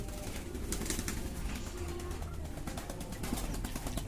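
Several pigeons kept in a small cage coo steadily and softly, a continuous low murmur of overlapping calls with faint rustling, heard alone without talk.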